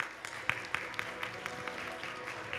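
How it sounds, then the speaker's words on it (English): Audience members at a parliamentary openness forum applaud the guests on stage. The claps are sparse and fairly quiet, with a few sharp individual claps standing out from the softer patter. "please a round of applause for all the guests on stage"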